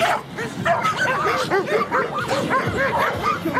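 Dog barking and yipping excitedly in rapid bursts during protection sleeve bite training, close and loud, with a few whimpers mixed in.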